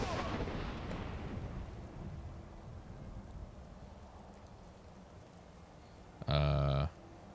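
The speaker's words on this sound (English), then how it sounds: "Fire breath. That's my favorite." The Fire Breath dragon shout in Skyrim: a sustained rushing, crackling roar of flame that fades, then a short, loud, tonal blast bursts out near the end.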